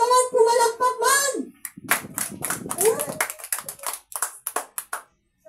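Church congregation at a celebration service clapping hands, following a voice that sings or chants. The clapping comes in uneven bursts and fades out, with occasional voices in between.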